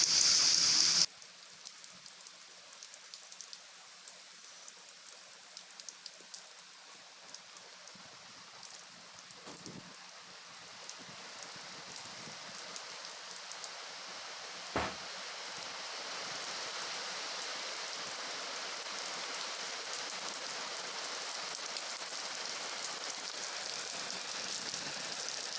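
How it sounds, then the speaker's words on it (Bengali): Steady rain falls in a dense, even hiss on an outdoor surface during a windy downpour, with a brief louder patter at the start and one sharp drip or knock midway; no one speaks. "দেখছেন কেমন বৃষ্টি হচ্ছে"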